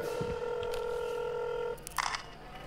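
Touch-tone dialing beeps from a phone in the video game INFRA, a steady run of tones followed by a short burst of clicks and noise, close and clear with no talking.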